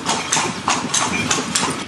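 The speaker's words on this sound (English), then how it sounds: "to Edfu Temple is by horse and carriage." Zizou, a fat carriage horse, clip-clops along a street in Edfu, Egypt. Hooves strike in a steady, even rhythm, close and clear, over a low rumble of traffic.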